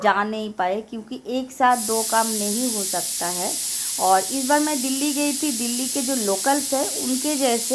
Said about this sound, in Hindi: और बैकग्राउंड में आपको कुकर की सीटी भी सुनाई दे रही है